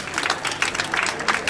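A church congregation at a funeral service claps and cheers together, a dense, steady burst of applause with no voices speaking over it.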